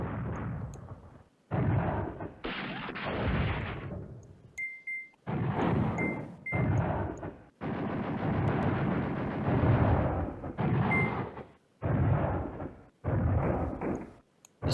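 Artillery fire in the wargame Command Ops 2, set around Arnhem: a long run of loud, dense booming blasts in separate bursts, each a second or two long, with brief gaps and occasional faint beeps.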